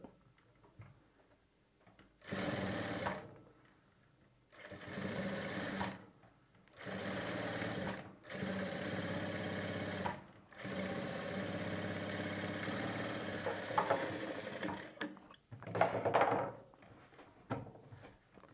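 A sewing machine stitches piping onto fabric in a run of about six steady bursts, each a few seconds long with short pauses between, close and loud with no voices.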